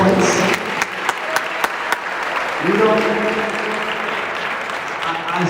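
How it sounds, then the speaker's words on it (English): A senior-night gathering for a graduating class applauds in a steady, full wash of clapping that runs the whole time, with a speaker talking over it. "A little round of applause for those 48 points"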